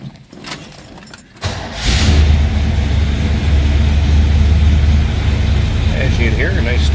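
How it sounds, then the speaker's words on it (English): A 1969 Chevrolet Chevelle engine cranks briefly, catches and settles into a loud, steady, rumbling idle that runs close by without pause. "Go ahead and fire it up so you can hear that engine run."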